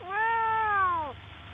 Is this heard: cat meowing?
yes